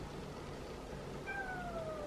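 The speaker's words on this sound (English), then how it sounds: "All the cats are out and ready." Cats meow before a breakfast of homemade raw food mixed with warm water and topped with crunchies; one clear drawn-out meow rises late in the clip over a steady low background hum, with no one talking.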